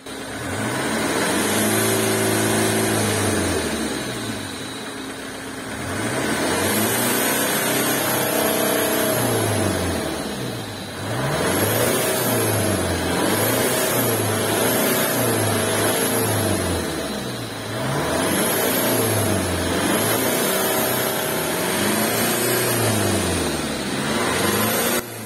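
A diesel engine is revved repeatedly during an exhaust decarbonization, rising and falling in long surges over several cycles, loud and close with no talking.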